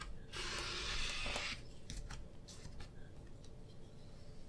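Quilt fabric block being trimmed, a close, steady scraping cut lasting about a second and a half, then a few light clicks and taps of handling.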